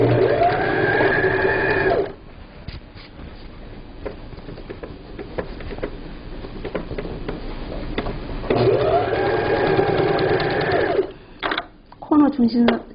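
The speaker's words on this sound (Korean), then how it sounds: "박음질을 시작하시면 됩니다" Sewing machine stitching a fabric cover for a low folding table, running in steady whirring bursts at the start and again later, with a quieter gap and short stop-start stitches at the end.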